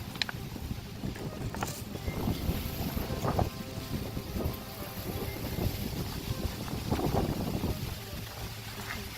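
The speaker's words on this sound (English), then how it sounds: "It's really windy." Strong wind gusts buffet the microphone beside a lake on a hiking trail, a steady roaring rush with louder blasts throughout.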